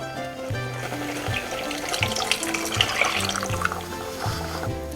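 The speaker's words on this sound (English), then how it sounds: "Now I am going to add around 1 glass of water." About a glass of water is poured into a pot of vathal kuzhambu curry, a steady splashing pour of several seconds under background music.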